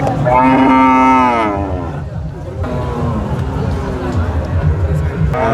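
A Friesian cow lets out a loud, drawn-out moo close by at a cattle market, then crowd chatter and general market noise carry on, with another moo starting at the end.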